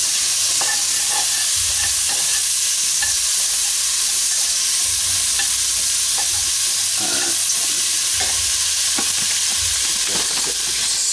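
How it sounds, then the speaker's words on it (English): Onions sweating in a pan for a veggie chili con carne give a steady close sizzle and hiss with occasional stirring scrapes and clicks, continuous and fairly loud throughout. "sweat our onions. So keep these going. Looking for them to turn translucent."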